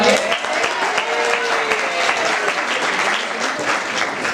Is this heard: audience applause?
yes